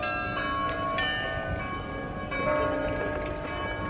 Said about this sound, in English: it just turned 12. Listen to all the bells.